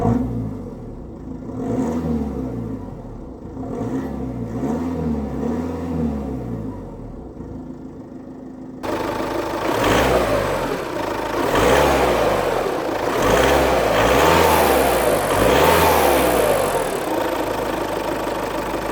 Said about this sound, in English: it's a very good sounding diesel engine